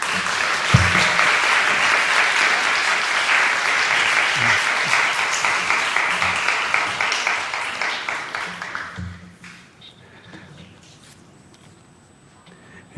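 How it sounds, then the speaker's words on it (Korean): A church congregation applauds to welcome a missionary, loud sustained clapping for about nine seconds that fades out, followed by near quiet. "우리 선교사님 나오실 때 우리 박수로 맞이하도록 하겠습니다"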